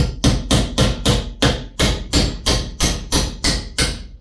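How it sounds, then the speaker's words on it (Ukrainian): A sturdy repair hammer drives nails with about a dozen heavy, evenly spaced blows. Each one is close, loud and sharp with a short ringing decay, in a steady rhythm and no speech. "два цвяха забив"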